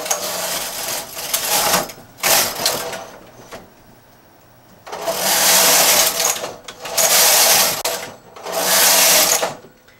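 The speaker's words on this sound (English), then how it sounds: "So now I'm going to knit 4 rows." A knitting machine's carriage rasping back and forth across the needle bed in loud, even passes separated by short pauses, knitting rows of a chain cable pattern.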